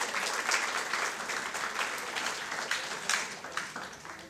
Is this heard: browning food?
no